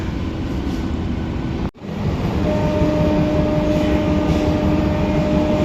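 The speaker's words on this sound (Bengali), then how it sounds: "এই আমাদের নৈহাটি থেকে ছেড়ে দিল ট্রেন।" Steady low rumble of an AC local train departing Naihati on the Sealdah–Kalyani line, running along the tracks, broken by a brief dropout, then continuing with a faint sustained tone over the noise.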